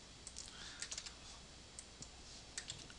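Quiet, close typing on a computer keyboard as card payment details are entered, with quick irregular clusters of key clicks and short pauses.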